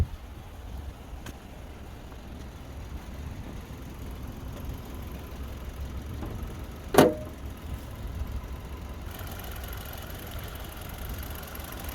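A 2022 Hyundai Solaris with a 1.6 engine and automatic gearbox idles with its hood open, giving a steady, even low hum throughout, broken once by a single sharp click near the middle.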